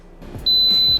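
An Instant Pot pressure cooker, finished cooking rice, gives off a loud, steady electronic beep that holds for about half a second and stands out sharply over faint background noise.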